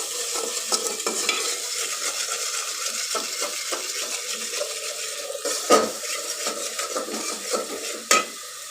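Dried fish with onion, garlic, salt, chili and turmeric sizzles in a pan for a radish and shutki curry, with steady frying hiss, scraping stirs and a couple of sharp utensil knocks against the pot.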